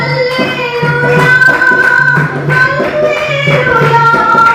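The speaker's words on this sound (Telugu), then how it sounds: "స్తుతి ఆరాధన చప్పట్లు కొడదాం" A church congregation claps in steady rhythm during a praise-and-worship song, each clap landing on the beat over sustained keyboard chords and singing.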